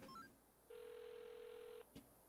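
A burner phone rings once in the Saints Row video game, a steady electronic tone lasting about a second, followed by a short click, all fairly quiet and clean with no talking.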